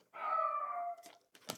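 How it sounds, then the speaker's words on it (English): A pet dog lets out a single drawn-out, tonal howl or whine lasting about a second, close and fairly loud, followed by a couple of short breathy huffs. "I'm sorry, that's my dog, Kenji."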